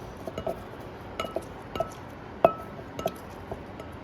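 Glassware clinks while a mocktail is made with crushed ingredients in a glass: a scattering of short, light, sharp taps and chinks at irregular intervals over a soft background, with no voices.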